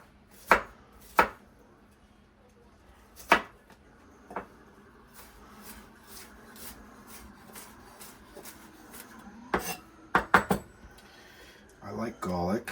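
Homegrown parsley and garlic chopped on a board, a few sharp, isolated knife strikes spaced apart, then a quick cluster of chops near the end, with quiet kitchen background between.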